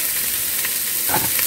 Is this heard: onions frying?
yes